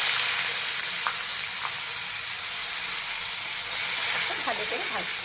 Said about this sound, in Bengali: এবার আমি কুচিয়ে রাখা পেঁয়াজগুলো দিয়ে দেবো